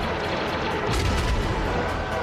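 Ship cannons fire in a Star Wars: The Bad Batch battle against air support, a dense, continuous barrage of heavy booms and blasts, loud and close, swelling around the middle.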